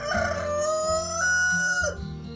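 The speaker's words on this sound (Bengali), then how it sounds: "কর্কশ, কান কাঁপানো, মাথা ধরানো ওই মোরগের গলার স্বর।" A neighbour's rooster crows loudly and close by in one long, harsh, drawn-out call with rising and falling pitch, heard alone.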